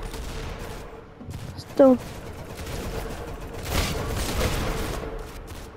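Gunfire in the Roblox shooter Arsenal: a single sharp shot rings out near mid-clip, with a softer burst later, set against game noise while a player talks.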